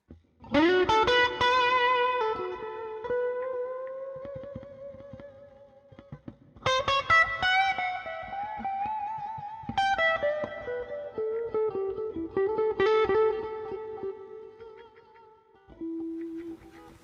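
Electric guitar chords and notes, played for a blues tone through an FM3 hall reverb effect, ringing out with a long, spacious reverb tail, several phrases separated by short pauses.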